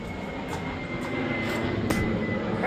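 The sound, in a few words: airplane flying overhead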